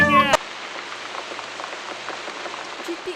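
Sudden unseasonal rain falling steadily, a dense patter of drops on surfaces, continuous and fairly close; a brief burst of another sound opens the clip before the rain carries on alone.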